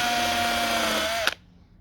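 A power drill bores holes in wood while building a bird house, a steady whining motor hum running close and loud before it stops abruptly, leaving quiet room tone.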